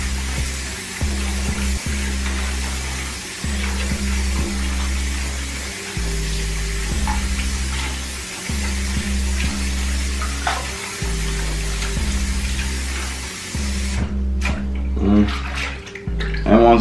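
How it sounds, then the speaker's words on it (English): Medium-pressure tap water runs steadily into a sink while durags are swished and washed in soapy water, with rhythmic sloshing pulses throughout and a louder splashing burst near the end. "Basically, I'm gonna run medium water, move it around, clean it like this."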